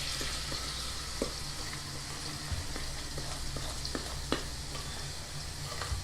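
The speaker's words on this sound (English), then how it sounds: "I'm going to mix this with a spoon" Chocolate cake batter stirred by hand with a spoon, a steady soft scraping and swishing with occasional light clicks of the spoon against the bowl, close and continuous with no talk.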